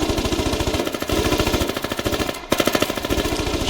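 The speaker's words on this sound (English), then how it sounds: "Machine gun into the west." A machine gun fires in long, rapid sustained bursts during a battle, the evenly spaced shots loud and close, with a brief break before the fire picks up again.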